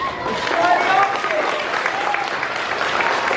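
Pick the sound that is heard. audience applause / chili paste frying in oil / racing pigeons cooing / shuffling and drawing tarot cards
audience applause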